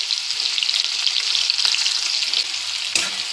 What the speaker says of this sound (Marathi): मग घालायचा बारीक चिरलेला कांदा. कांदा छान परतून घ्यायचा.